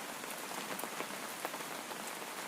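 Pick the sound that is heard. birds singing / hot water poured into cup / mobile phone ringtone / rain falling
rain falling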